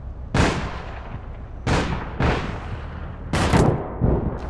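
Gunfire in the online shooter APB Reloaded: four heavy, booming shots spaced about a second apart, each with a sharp attack and a decaying tail, loud and close with no talk over them.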